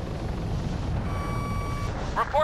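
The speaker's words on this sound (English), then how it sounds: "RPM warning goes off, and you can hear the RPM alarm" Helicopter RPM warning alarm in ArmA III: a steady mid-pitched warning tone sounds for about a second over the continuous low rotor and engine drone, followed by brief chirping beeps near the end.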